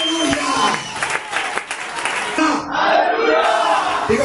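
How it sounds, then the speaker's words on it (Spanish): A standing church congregation keeps applauding, dense clapping mixed with shouts and crowd voices, swelling and dipping briefly before carrying on strongly. "Pónganse de pie, sigan aplaudiendo."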